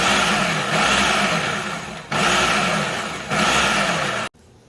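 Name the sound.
food processor pulsing peppers for salsa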